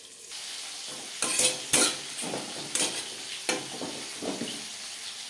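Thirteen or fourteen dried red chillies and spices fry in a karai of very hot oil, with sharp bursts of sizzling and stirring scrapes over a continuous crackle.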